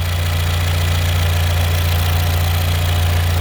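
A Mercedes-Benz GLA45 A45 AMG with a 2.0L engine idles just after start-up, a loud, steady, close mechanical drone with a deep low rumble and a constant hiss, running alone without voices.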